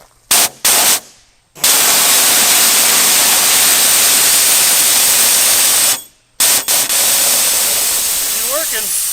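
Nitrous oxide at about 900 psi spraying from a rubber snowmobile fuel hose blown off an abandoned limo's system: a loud, sustained hissing roar broken by brief gaps, starting and stopping in bursts.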